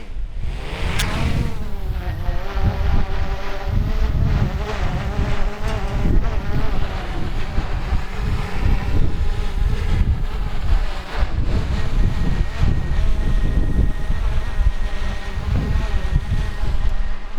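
A small camera drone hovers in strong 40mph winds, its thin whine partly buried under heavy, gusting wind buffeting the microphone from start to finish.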